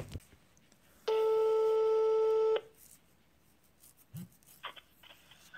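Telephone busy tone on a landline call after the other party hangs up: a steady, loud electronic tone for about a second and a half, followed by faint line noise and soft clicks.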